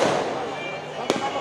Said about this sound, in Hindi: आतिशबाजी के साथ